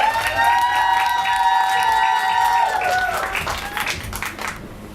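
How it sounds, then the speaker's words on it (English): An audience at The Music Room applauds a guest singer: a dense, steady wash of clapping with a sustained tone running through it, easing off slightly near the end. "I want y'all to please give her a warm round of applause"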